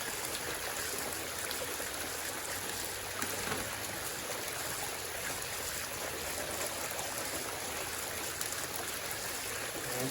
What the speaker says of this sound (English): So let's go ahead and put some water in this bag.